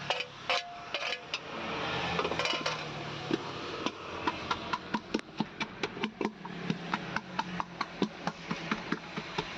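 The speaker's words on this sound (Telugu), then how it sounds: "మనోజ్ పచ్చడి ఎలా దంచుతున్నాడో కామెంట్ చేయండి ఫ్రెండ్స్" Chutney with onion is pounded with a pestle in a cooking truck, making a steady run of sharp, close knocks, at times rapid and at times spaced, over low background noise.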